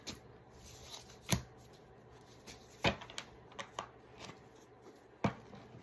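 Tarot cards are shuffled by hand in a few sharp riffling bursts spaced a second or two apart, with softer card handling between them in a quiet room.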